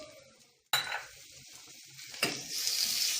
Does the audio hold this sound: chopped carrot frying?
yes